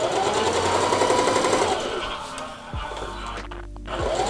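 A sewing machine runs a straight stitch through gathered tulle near elastic, with a steady motor whir that slows and stops, then short bursts of stitching and a brief restart, heard up close with no talk.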